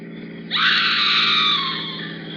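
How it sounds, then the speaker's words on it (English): Woman screaming in a live radio drama, a single loud, sustained high-pitched shriek that starts abruptly and trails off over a low steady background hum, with no speech during it. "Sounds like a woman screaming."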